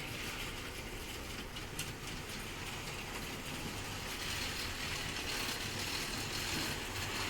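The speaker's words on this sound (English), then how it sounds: "Get that back on track, and off we go for the third time." A model railway train runs along a layout in a shed with a continuous, even rumbling whir from the motor and wheels, fairly close and without pause.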